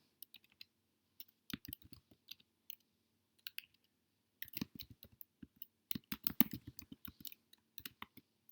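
Java code being typed on a computer keyboard: bursts of quick, crisp key clicks, sparse at first and then denser and more rapid, close and fairly quiet with short pauses between runs.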